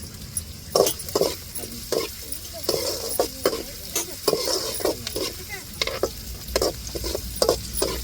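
Chili dropped into a hot pan for beetroot and carrot rice, frying with a steady sizzle while a spoon scrapes and stirs in quick repeated strokes, close and fairly loud.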